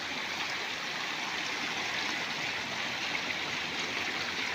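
Floodwater from hillside streams and drains rushes along a channel toward rice fields in the Konkan, a loud, steady broadband roar of flowing water with no break.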